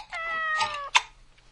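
A pet cat lets out a drawn-out, clearly pitched meow followed by a short second chirp-like call, close and distinct over a quiet background.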